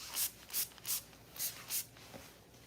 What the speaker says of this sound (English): So we're gonna put on some Hydra Strength leave-in spray.